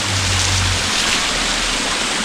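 Mata Tumpah (Malikuna) waterfall near Makassar, heard from below the falls: a steady, broad rush of falling water fills the whole clip, fairly loud and close, with a brief low rumble at the start.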